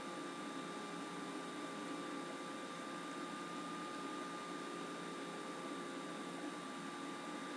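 A hammer drill cores a 2-inch hole through a foundation wall for a 1.5-inch drain pipe. It makes a steady, fairly faint, unbroken grinding drone that holds for several seconds without pause.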